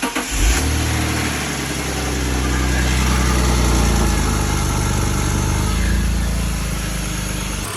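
A BMW E46 engine, freshly refreshed, running steadily at close range, a loud even idle with a slight swell in revs midway and no talking.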